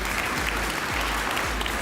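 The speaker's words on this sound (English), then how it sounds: "Can we give her a round of applause as she comes forward" An audience claps continuously in a short burst of steady applause, with a low thumping underneath.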